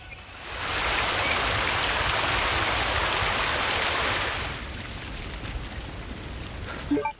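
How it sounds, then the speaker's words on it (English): Steady rainfall in the Resident Evil 2 remake, a loud hissing downpour that holds evenly for several seconds before easing to a softer, duller patter, with a few small clicks at the end. "The rain just slides off him."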